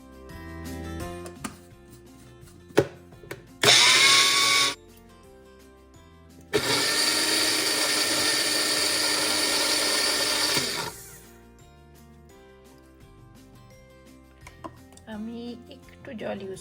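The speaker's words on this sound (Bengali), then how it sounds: "এখানে আমি একে একে কাঁচা লঙ্কা আদা রসুন ধনে পাতা আর কারি পাতাটা দিয়ে এবার মিক্সিতে একটু পেস্ট বানিয়ে নেবো" A kitchen mixer grinder whirs loudly in two bursts, a short one and then a longer steady grind, blending green chilies, ginger, garlic, coriander leaves and curry leaves into a paste, with clicks and handling noises between runs.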